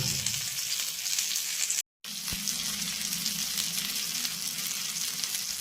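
Chicken leg pieces fry in a pan on a low flame with a constant close hiss and crackle, cut by a brief gap of silence, and no one speaks.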